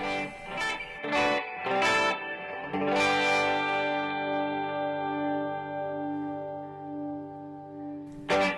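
An electric guitar with a Gotoh 510 bridge and tailpiece rings out with a few bright struck chords, then one long sustaining chord that slowly fades, with a final strum at the end.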